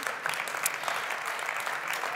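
Audience applause fills a hall at a German healthcare awards event, a steady, even wash of clapping from a sizable crowd that carries through the whole moment without pause or speech.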